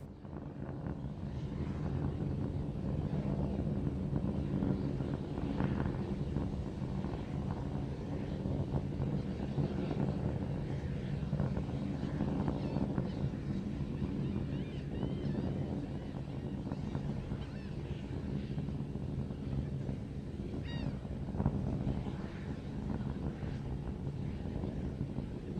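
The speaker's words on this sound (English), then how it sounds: "the Raptor engine's continuing to perform" SpaceX Starship SN15 Raptor rocket engines firing during a high-altitude test flight, a continuous low, rumbling roar that holds steady and unbroken with a windy, muffled character.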